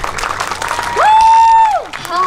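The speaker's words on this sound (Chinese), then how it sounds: "再次掌声谢谢他们。" Audience applause at the Kaohsiung gala premiere of the film 血觀音, a busy wash of clapping and crowd noise, with a loud sustained whistle-like tone rising in the middle and voices mixed in.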